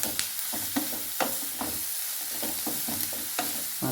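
Ivy gourd pieces fry and sizzle in hot oil, with a steady hiss broken by repeated scraping stirs of a spoon against the pan, close and alone without talk.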